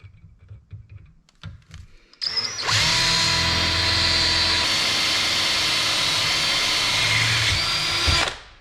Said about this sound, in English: we're going to drill it real quick with a 1/4 inch for a pilot